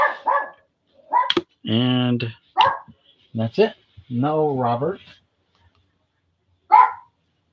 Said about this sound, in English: Dog's barking, but I don't see anyone outside, so he just barks when the wind blows, I guess.